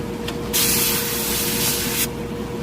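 A Harder & Steenbeck Infinity CR+ airbrush releases one steady hiss of spray lasting about a second and a half, close and clear over a low background hum.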